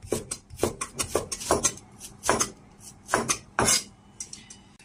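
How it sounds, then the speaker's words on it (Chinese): A knife slices pork belly into strips on a cutting board, a close series of about a dozen sharp, uneven chops and knocks with short pauses between them. "再切点五花肉"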